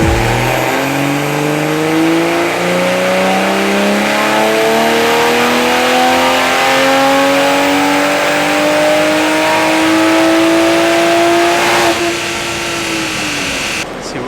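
A Toyota Supra running E30 fuel on a Bootmod3 tune revs hard on a dyno, its loud engine climbing smoothly in pitch through one long pull before abruptly lifting off near the end.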